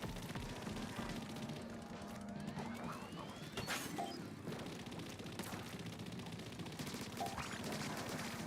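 A Hydra Splatling gun firing in Splatoon's Salmon Run mode, rapid bursts of shots under busy game sounds, fairly faint and mixed with other effects.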